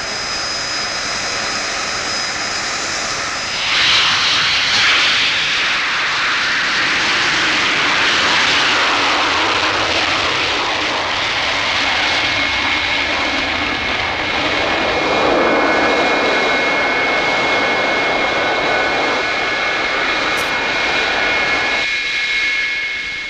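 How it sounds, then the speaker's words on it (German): A military Alpha Jet flying at very low altitude gives a loud, sustained roar of jet noise that swells and shifts as it passes close overhead, filling the whole stretch without any speech. "das Durchsetzungsvermögen des Alpha Jet im Tiefstflug sind jedoch seine Wendigkeit und hohe Manövrierfähigkeit"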